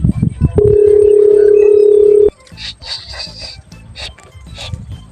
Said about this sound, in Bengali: গাইডটাকে ফোন কর। দাঁড়া দাঁড়া করছি।